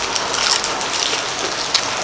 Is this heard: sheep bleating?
no